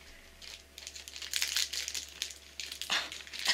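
Crinkly chocolate wrapper from a Sokawaii snack box being handled up close, giving a busy stream of crackling, crumpling rustles that swell and fade in irregular bursts, with no voices.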